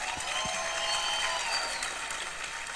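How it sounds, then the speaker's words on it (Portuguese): Audience applause at a music awards ceremony in Cabo Verde for a female performer, a continuous wash of clapping from a large crowd, steady and even. "me queria pedir um salva de palmas para a pessoa"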